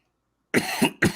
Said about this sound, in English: I'm going to cough for a bit.